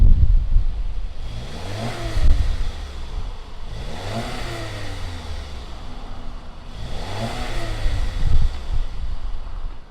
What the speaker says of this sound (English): let's go ahead, fire up this Q3 and see what it sounds like out of those fake exhausts